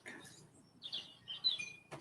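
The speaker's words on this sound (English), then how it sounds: "I can hear the birdies." Faint, scattered bird chirps and tweets over a quiet outdoor background, with no talking.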